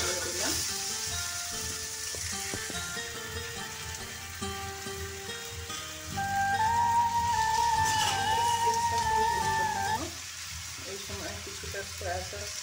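Vegetables for egg chow mein stir-fry in a pan, making a continuous loud sizzle with stirring noises, while sustained musical tones play in the background.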